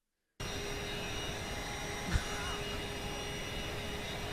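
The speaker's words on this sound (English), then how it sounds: "Have you guys ever heard of brown noise and a vacuum cleaner at the same time?" Brown noise and a vacuum cleaner run together as a steady, even roar, with one brief thump near the middle.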